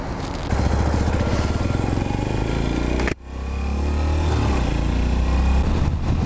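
A Yamaha SR400 single-cylinder motorcycle idling and revving gently at low RPM, a loud steady thumping drone close by that dips sharply for a moment mid-clip, then swells back to a constant run.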